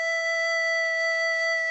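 A single steady E held on a recorder-like wind instrument with a pure, breathy tone, blown with slow, warm air and sustained evenly for almost two seconds.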